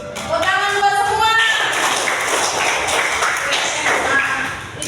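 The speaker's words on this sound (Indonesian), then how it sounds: "Tepuk tangan buat semua." A primary school class claps together in a classroom, a dense patter of many hands lasting several seconds, with a voice speaking briefly at the start.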